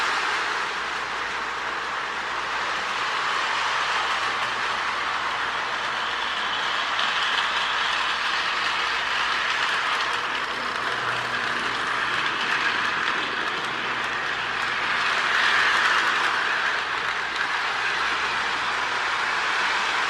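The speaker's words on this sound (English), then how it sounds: "both trucks powered by DC cam motors, it's a really nice, even slower operation with them" A steady mechanical whir and rumble of a custom K-Line S2 New Haven model switcher, both trucks powered by DC can motors, running continuously along a track, with faint rattling, no voices.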